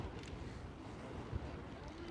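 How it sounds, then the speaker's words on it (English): Wind gusting across an outdoor American football field during a UK amateur game, a steady low rumble of wind buffeting the microphone, with a brief thump partway through and faint distant voices. "it's windy"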